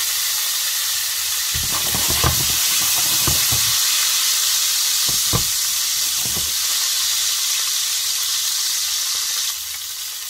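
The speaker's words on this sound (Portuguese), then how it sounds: "agora vamos adicionar cebola. Vamos deixar lourar." Onion frying in a pan for chicken tagine, a constant loud sizzle with several clattering stirs of a utensil scattered through it.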